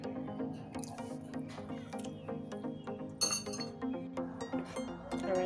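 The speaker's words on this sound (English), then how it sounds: "I'm going to whisk until it's all properly combined" A whisk clinks rapidly and steadily against a glass bowl while pancake batter is mixed, a close, busy run of small metallic taps with a few louder bursts.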